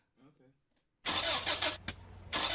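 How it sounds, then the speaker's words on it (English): A car engine cranks and catches after a brief spoken phrase, then runs loud and close with a short dip before roaring again; a faulty engine is implied. "That's the sound of your car about to cost you a lot of money."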